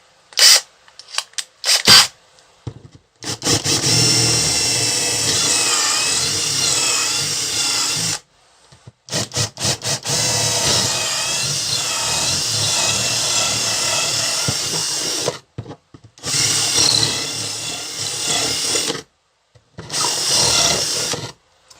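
An 8mm bit in a power drill bores into wood, the motor whining in several long bursts of a few seconds each, broken by short pauses, close and loud with no talking.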